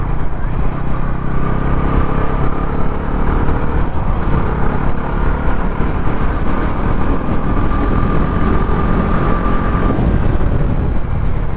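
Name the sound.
Bajaj Pulsar NS400Z motorcycle engine running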